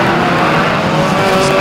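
Banger racing cars at Mildenhall speedway roar together in a race, a loud continuous engine din with tyre noise, close and unbroken.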